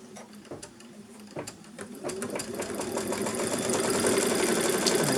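A sewing machine stitches the side seam of an embroidered garment, its steady mechanical whirring building from a soft start into a loud, continuous run.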